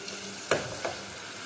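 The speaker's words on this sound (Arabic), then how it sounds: "باش نقليوه على نار لازم تكون هادية شوية باش يطيب في عقله" Meat, onion and parsley filling frying gently in a pan over low heat, a soft steady sizzle with two brief stirring scrapes standing out, close and quiet.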